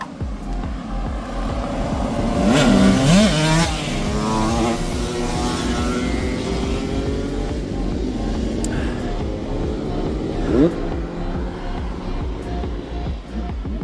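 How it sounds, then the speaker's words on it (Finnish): A group of mopeds passes along a road, small engines buzzing and whining with rising and falling pitch as they approach and go by, loud and close, with a steady engine drone throughout. "Tätä tulee kuulkaa mopopartio"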